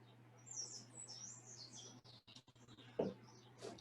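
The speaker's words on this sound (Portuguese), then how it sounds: "Os passarinhos agora acho que resolveram aparecer por aqui." Small birds chirp outdoors, faint and distant: a run of thin high tweets and trills, then a few sharper close chirps near the end, over a low steady hum.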